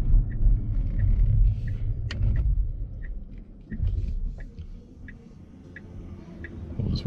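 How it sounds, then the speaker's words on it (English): Cars drive past a Tesla waiting to turn right, heard from inside as low rumbling swells that come and fade, with a steady indicator ticking at an even beat over them. "We'll just wait for these cars to go by."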